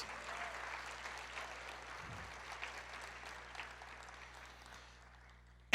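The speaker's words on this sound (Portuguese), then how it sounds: "Então uma salva de palmas para as mulheres" An audience applauds women at a Mother's Day talk, a steady, fairly soft wash of clapping that carries on evenly for several seconds before cutting off abruptly.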